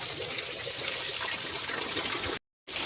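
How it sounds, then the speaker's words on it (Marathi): Heavy rain pours down in a dense, even hiss that fills the whole clip, cutting out abruptly for a split second near the end before resuming. "आणि आता भरपूर पाऊस पडालाय"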